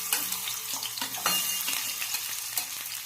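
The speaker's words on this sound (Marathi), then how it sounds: "तेल तापलेलं आहे तर आपण आता त्यात बटाटे टाकूया" Potatoes fry in hot oil in a kadhai with a bright, crackling sizzle broken by quick popping spatters and light stirring, close and steady with no talk.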